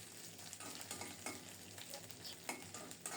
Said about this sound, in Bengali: এখন তেলে লাল লাল করে ভেজে নিচ্ছি।